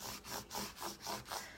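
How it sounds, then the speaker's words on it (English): A scraper tool rubs back and forth over adhesive vinyl on transfer tape, five quick, even scratchy strokes, close and fairly faint. "this is just a scraper tool"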